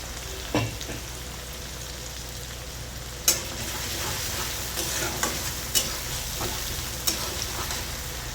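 Green chili paste and crushed peanut powder fry in hot oil with garlic, giving a steady close sizzle broken by a few sharp stirring scrapes and clinks from a spoon in the pan.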